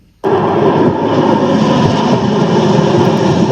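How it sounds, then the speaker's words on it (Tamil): A loud, steady aircraft roar swells in suddenly and holds, a broad rushing drone of an Air India airliner passing close overhead as it lands. "இப்போ இந்த ஏர் இண்டியா ஃப்ளைட் வந்து லேண்ட் ஆகுது"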